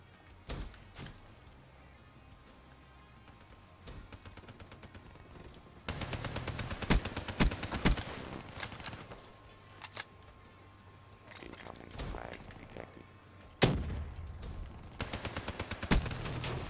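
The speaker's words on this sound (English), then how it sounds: "I need like rapid fire on this man of war." Man-O-War rifle fire in Black Ops 3, loud bursts of rapid gunshots crackling over a steady game backdrop, with sharper heavy blasts near the middle and end.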